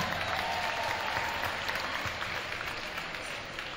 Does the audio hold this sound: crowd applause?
yes